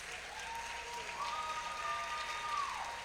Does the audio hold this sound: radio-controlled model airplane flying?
no